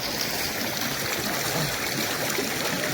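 Water flowing forcefully between two rocks in a rural stream, an unbroken close, loud rushing hiss that stays even throughout.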